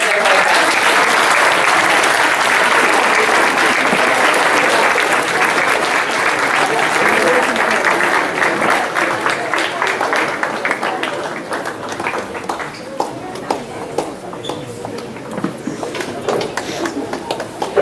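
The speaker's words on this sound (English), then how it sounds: "So can we give them a round of applause as they make their way down?" Sustained applause from a school awards ceremony audience, loud and dense at first, then thinning into scattered, uneven claps with some background voices as it tapers off.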